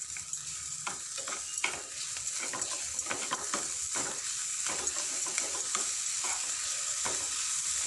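Grated beetroot and sugar frying together in a pan for beetroot kheer, a soft continuous sizzle broken by frequent spatula scrapes and stirring taps, fairly quiet and close, with no one talking.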